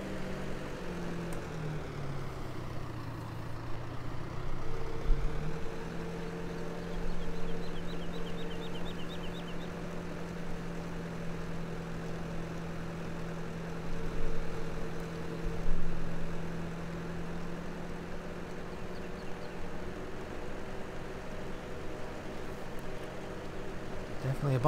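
Tractor engine in the Farming Simulator 17 video game, a steady mid-pitched drone that holds through the whole stretch with small bumps in level, heard close with a voice talking over it.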